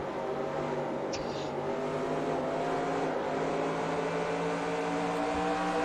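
Race car engines in the NASCAR Racing 2003 video game, a K&N series race at Memphis International Raceway, drone steadily and loudly throughout, with layered engine tones of several cars running close together.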